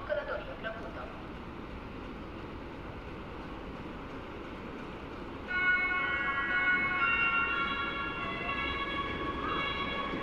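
Evening train at Sibiu railway station, with rumbling rail noise throughout and, from about halfway, a louder tonal squeal or horn-like sound as the train moves along the platform.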